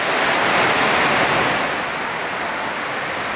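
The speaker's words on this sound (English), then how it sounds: "it might be raining just as hard inside." Heavy rain pours down at a covered night market in Phuket, a steady dense hiss that holds loud and even throughout with no voices.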